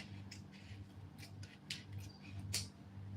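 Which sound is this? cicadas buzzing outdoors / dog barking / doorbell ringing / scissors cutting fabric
scissors cutting fabric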